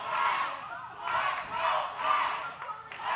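A wrestling crowd roars and chants in support of the wrestler Cashflow, sustained loud cheering rising and falling in surges, with no clear commentary over it.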